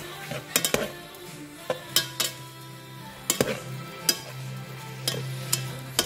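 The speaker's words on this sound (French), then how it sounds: "Je vais donc remuer maintenant." Escalope seasoned with paprika, cumin and herbs is stirred in a pan, with irregular utensil scrapes and clinks against the metal over a soft, steady sizzle, close and fairly quiet, with no voices.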